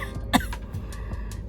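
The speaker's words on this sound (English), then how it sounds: "Still got this cough going" A single short cough sounds close by, followed by a few faint shuffling noises in a quiet room.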